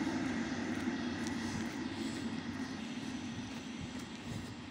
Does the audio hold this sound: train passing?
yes